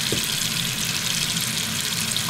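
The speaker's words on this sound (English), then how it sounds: "And you're going to start adding water." Tap water running into a pot packed with collard greens, a steady, close gushing hiss that fills the pot without pause, no talk.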